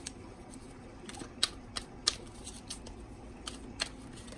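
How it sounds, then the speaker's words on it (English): Soft, quick papery flicks and taps of oracle cards being shuffled, faint and close, with a few sharper snaps scattered through. "Now I'm shuffling here some Healing with the Angels Oracle cards"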